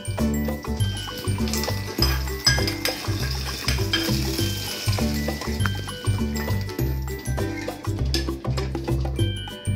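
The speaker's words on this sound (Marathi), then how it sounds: "फोडणी चांगली झालेली आहे आणि आता हे मी या पाण्यात घालते." Hot Marathi phodni tempering poured into water for dhokla, with a rapid sizzle and clattering pot and utensil sounds throughout, steady and close.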